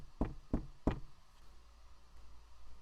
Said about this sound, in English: I knocked softly on the room door.